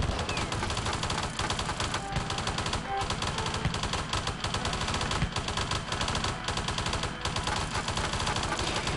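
Gatling gun towers in the Hydraulic Empire video game fire in rapid, rattling bursts, a dense continuous clatter of loud shots with brief gaps between volleys across nine seconds.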